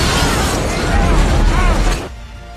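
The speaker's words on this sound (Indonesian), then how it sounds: "bis yang dikendarai Bob tiba-tiba meledak." A loud, sudden blast of a bus exploding in the film Speed, with a rumbling, crackling roar that cuts off sharply near the end.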